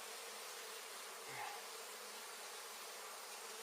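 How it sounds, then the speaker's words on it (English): A faint, steady insect buzz of bees humming from a heavy bee infestation under a constant hiss, with a brief low thump partway through. "You hear that humming? That's where all them bees are at."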